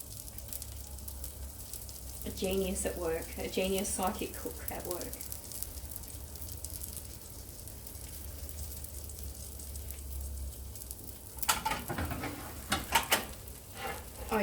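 Food sizzles and browns in a frying pan with a soft, steady hiss and occasional crackles and clinks, heard close, while a voice talks briefly over it near the start.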